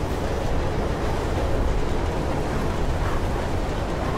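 A train in the video game Mirror's Edge rumbles through a tunnel as a loud, steady, dense roar that holds evenly throughout with no voices.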